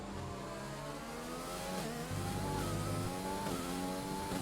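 An F1 car engine in the F1 2020 video game, racing at Bahrain, whines loudly and steadily, its pitch stepping through gear changes as it downshifts, with no voices over it.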